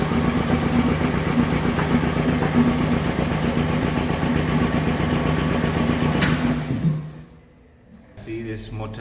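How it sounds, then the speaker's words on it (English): An electric motor drives the big pulley and twin pistons of an air compressor, making a loud, steady mechanical drone with a rapid knocking pulse before it abruptly cuts off and falls quiet. "see this motor is connected to this big wheel, this big pulley, which is supposed to run these two pistons inside here, which compress the air"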